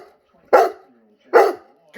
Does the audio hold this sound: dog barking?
yes